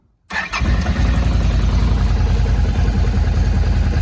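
A MegaSquirt-tuned car engine cranks briefly and catches, then settles into a steady, loud, close idle with a throbbing low rumble.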